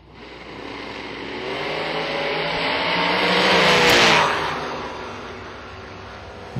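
Drag racing cars, one a Camaro, launch down the strip, engines building to a loud, roaring crescendo that peaks and then fades as they pull away, heard fairly close with no voices.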